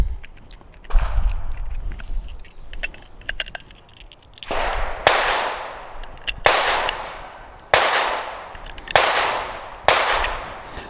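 Six sharp .40 S&W pistol shots crack out at irregular intervals during an outdoor chronograph velocity test, each a loud close report followed by a decaying ring.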